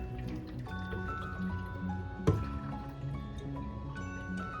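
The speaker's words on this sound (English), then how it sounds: "Give it a stir." A spoon stirring chicken noodle soup in a pot with water: soft liquid swishes and drips with a single sharp clink of metal against the pot midway, close up and quiet, with no talk.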